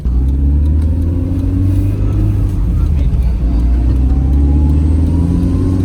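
Toyota AW11 MR2 with a swapped 3S-GTE turbo four-cylinder pulling away from inside the cabin, a steady loud low engine drone and road rumble rising gently in pitch with no break.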